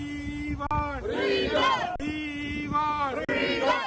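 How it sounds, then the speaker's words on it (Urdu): Protesters chant slogans in rhythmic call-and-response outside the Indian consulate in Birmingham on a Kashmir Black Day demonstration, loud and close, with a lead voice and answering crowd repeating in waves. "مظاہرین نے بھارتی مظالم کے خلاف شدید نعرے بازی کی۔"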